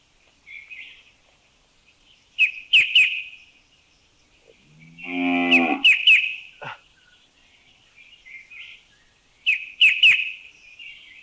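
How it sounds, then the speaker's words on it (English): A cow moos once in the background, a low groaning call lasting about a second, overlapping the songs of a white-browed shrike babbler, whose repeated bright chirping phrases are recorded in Thailand. "and it's a cow."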